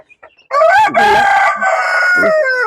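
Roosters among free-range country chickens crow loudly and close, one long drawn-out crow with a second call following, after a few faint clucks at the start.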